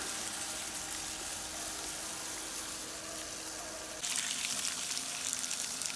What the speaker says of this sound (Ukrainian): також можна поляти тепленькою водою без проблем